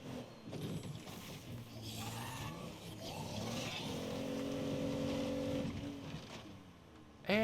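A car being driven in the zombie survival game State of Decay 2, its engine droning and rising in pitch, heard up close on its own, ending with a brief sharp noise.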